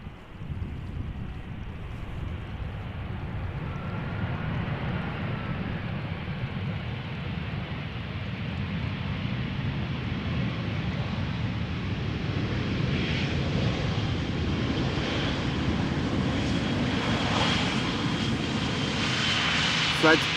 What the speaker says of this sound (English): This is an A320 from EasyJet,